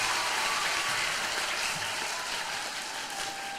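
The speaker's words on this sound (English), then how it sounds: "I want you to give a round of applause for my friend Mandy" Audience applause welcoming a speaker named Mandy at an inspirational talk, a dense steady clapping crowd that stays loud throughout before easing slightly.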